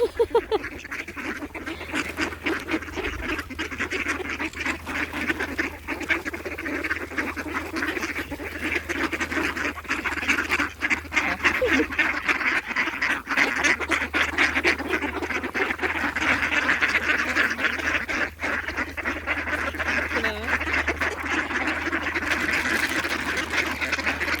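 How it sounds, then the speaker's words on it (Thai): Continuous low, raspy quacking and murmuring from a group of Muscovy ducks nearby, ongoing throughout with a steady background hum. "เป็ดฝรั่งเนาะสิกินข้าวเป็ดอยู่เนาะ"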